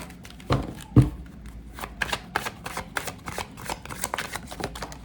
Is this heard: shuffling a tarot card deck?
yes